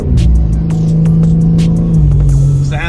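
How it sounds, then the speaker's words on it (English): A BMW G82 M4 with an AWE exhaust and mid-pipe revs loudly and close, its deep engine note holding a strong, resonant drone that rises and falls in pitch. "AWE exhaust with the mid-pipe. It sounds spectacular."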